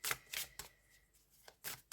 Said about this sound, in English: But overhand shuffling is fine.